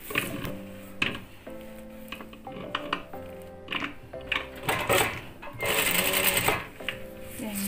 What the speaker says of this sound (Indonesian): Kemudian kita jahit sampai ke ujung bawah.